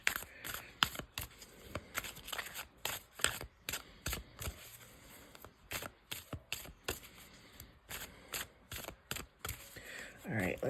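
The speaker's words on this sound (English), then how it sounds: "I'm going to clear them off, do a little shuffle" Oracle cards are shuffled in quick bursts of riffling and flicking, close up, with brief pauses between handfuls.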